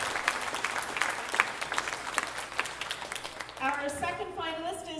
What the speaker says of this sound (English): Give Steve another round of applause for Rock and Robin